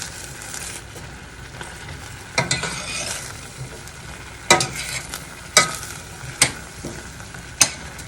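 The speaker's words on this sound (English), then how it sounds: "you want to keep stirring this until the sherry basically evaporates out" Carrots sizzle softly in a pan as sherry cooks off, with a spoon scraping and clinking against the pan several times at irregular intervals, close by.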